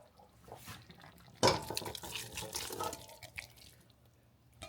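Spaghetti and meatballs being stirred together in a pot, with quiet wet sloshing and scraping of a utensil against the pot, a sharper clatter near the start, then softer squelching stirs.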